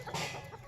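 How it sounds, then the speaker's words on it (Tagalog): A large bantam chicken clucks in short, close bursts over a steady low hum, with no talking. "meron siyang malaking manok guys"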